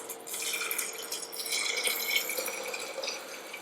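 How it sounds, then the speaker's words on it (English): Liquid solvent such as glycerin poured over herbs into a glass mason jar, a steady trickling and splashing pour that runs close and continuous throughout, with no talking. "I'm just going to pour it all in there."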